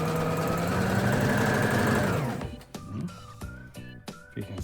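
A Brother BM 2700 sewing machine feeds fabric in a steady, loud whirring run that stops after about two seconds, leaving brief clicks and soft handling noises.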